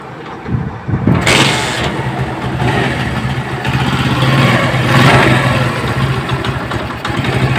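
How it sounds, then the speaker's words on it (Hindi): A modified Union Star cafe racer motorcycle engine cranks and fires up close by, then settles into a steady, loud idle with a rough, throbbing rhythm and slight rises in revs; no talking. "तो इसको हम अब बाइक को स्टार्ट करेंगे और इसका साउंड भी सुनेंगे।"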